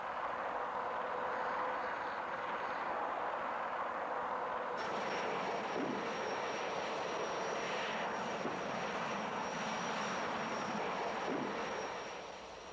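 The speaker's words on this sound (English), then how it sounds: "At a safe distance from the launcher, the cruise motor fires." A missile's cruise motor fires in flight: a steady, loud roaring drone holds throughout, joined midway by a high whine, with faint thumps underneath as the sound carries on without a break.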